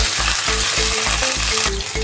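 Green chili and curry leaves go into hot oil with ginger and garlic for a mushroom curry, sputtering in a loud, dense sizzle. Quick regular spatula strokes scrape the pan close up throughout, and no one speaks.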